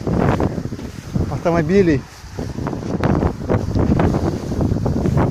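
Steady outdoor wind rumbles and buffets throughout, with a person talking briefly near the middle.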